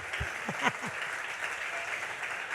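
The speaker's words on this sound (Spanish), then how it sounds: "Vamos a dar un aplauso bien fuerte, Señor, pero fuerte." Dense applause fills a church, a steady wash of many hands clapping, with a few faint voices underneath.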